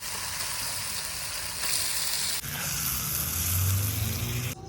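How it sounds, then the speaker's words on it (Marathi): Chicken frying in spiced Kolhapuri masala in a kadhai over a wood-fired stove makes a continuous close sizzle that swells louder partway through, with a low hum underneath and no talking. "आता आपण ह्यात चिकन घालून घेऊया."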